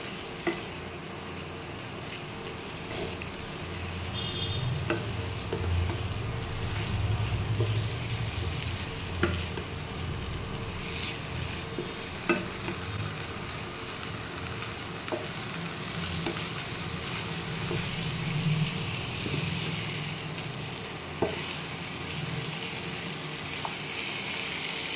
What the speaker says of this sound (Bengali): ভালো করে মশলার সঙ্গে ম্যারিনেশন করে নিচ্ছি।